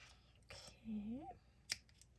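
Scissors snip through fabric while fabric snippet rolls are being made, a few quiet close cuts with a short sharp click near the end, heard against a faint low background.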